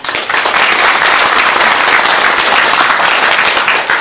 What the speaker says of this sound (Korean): 이 박수는 오바마 대통령이 받아야 될 복수입니다